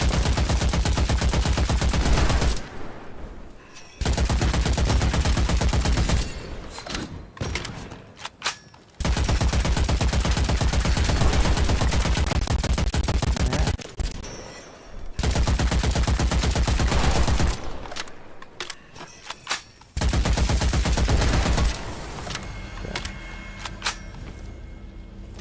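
A gun in Witchfire fires exploding pellets in long sustained bursts of rapid, loud blasts, each lasting several seconds, separated by brief quieter gaps, with no voices.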